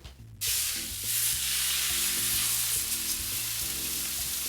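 Salmon fillets sear on a griddle turned up to full heat, giving a loud, steady sizzle that starts abruptly after a brief quiet moment and holds with crackling spits throughout.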